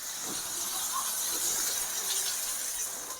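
Tomatoes and onions sautéing in oil in a pan for turkey berry curry, a continuous soft steamy hiss with faint crackle throughout, close and steady, no voices.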